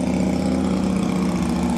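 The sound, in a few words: motorcycle engine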